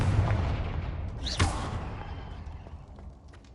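A Confringo explosive curse cast in Hogwarts Legacy, a loud rumbling blast with a sharp crack at its peak, followed by a decaying boom that fades away.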